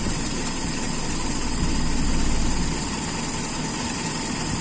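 A car engine with an Aisan carburetor runs continuously and close while the carburetor is adjusted for the highest RPM, with a steady loud drone that rises briefly in revs midway and then settles back.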